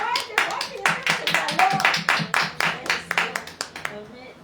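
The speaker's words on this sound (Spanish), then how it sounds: "fuerte aplauso a nuestro Dios" A church congregation claps together in a strong, rhythmic beat, each clap crisp and close, with voices underneath, before the clapping fades out at the end.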